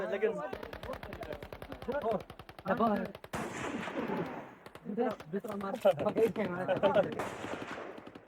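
Rapid bursts of tribesmen's gunfire fired like fireworks, crackling in fast automatic volleys, loud and close, with a few pauses between strings of shots and voices mixed in.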